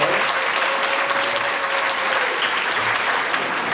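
Applause for party activists at a public conference on peace and national reconciliation in Côte d'Ivoire, a continuous, even wall of clapping from a large hall audience, with no talk over it.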